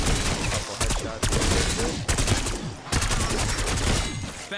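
Rapid automatic gunfire in Black Ops 6 Zombies on the Liberty Falls map, loud, dense bursts of shots broken by brief pauses, with game sounds layered in and a voice speaking now and then.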